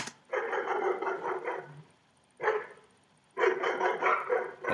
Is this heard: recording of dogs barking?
yes